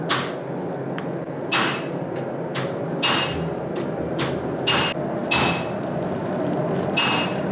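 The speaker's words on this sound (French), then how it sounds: "on voit bien les impacts du marteau" A hammer forges a knife blade at its hottest point, striking about eight sharp, ringing blows at irregular intervals, close and loud over a steady roar of the forge.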